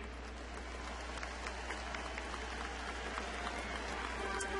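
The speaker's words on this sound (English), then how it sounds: "a round of applause for the Pujols Family Foundation" Stadium crowd applauding during a ballpark ceremony honoring the Pujols Family Foundation at a baseball game, a steady distant wash of clapping spread evenly throughout.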